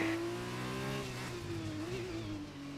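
A Formula 2 race car engine in the F1 2020 video game revs at the Bahrain circuit, a steady high buzzing whine with rich overtones that dips and rises slightly in pitch, heard alone.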